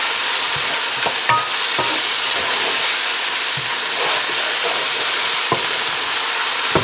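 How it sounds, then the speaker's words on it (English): Onions and jalapeños for BBQ pork and beans fry in a steady, close hiss while a spoon scrapes and stirs through them with occasional sharper clicks against the pot. "Get all that flavor out of those onions and the jalapenos."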